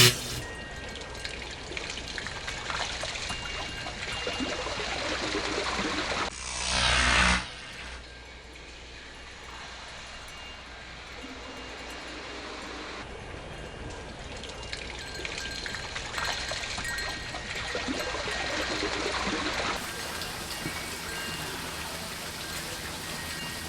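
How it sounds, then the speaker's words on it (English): A backyard pond waterfall runs as a steady, close rush of splashing, pouring water, with a brief louder surge early on before it settles into a constant flow. "Okay, I'm going to turn on the waterfall."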